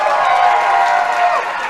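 A live audience at a speedrun marathon claps and cheers in a dense, loud, sustained wash of applause that thins slightly toward the end.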